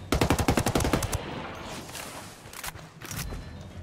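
Rapid automatic gunfire in the Ghost Recon Wildlands video game, a loud burst of about a dozen close, evenly spaced shots lasting around a second, followed by quieter scattered bangs and rumble.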